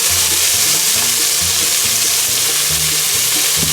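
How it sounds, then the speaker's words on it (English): Vegetables for chicken chili with double smoked bacon cooking in a pot, a loud steady sizzle with faint stirring sounds, close and continuous. "I'll be cooking this up until the vegetables are softened."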